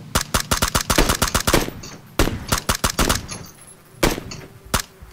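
Rapid bursts of automatic gunfire in PlayerUnknown's Battlegrounds, loud and close, in several volleys separated by brief pauses, with a few single shots near the end.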